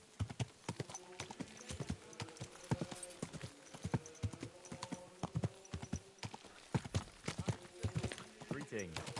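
Horse hooves clip-clopping on hard ground in the video game Kingdom Come Deliverance 2, a steady walking rhythm of sharp close knocks, with some speech and background ambience.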